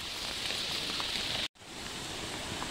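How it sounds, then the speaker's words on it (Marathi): Heavy monsoon rain and a rushing waterfall on a trek make a loud, dense, continuous roar that cuts out for an instant midway, then resumes just as strong, with no voices. "पाऊस भयानक आहे आणि गाईज फ्लो पण खूप भयानक आहे इथं आवाज पण येत असेल तुम्हाला अक्षरशः"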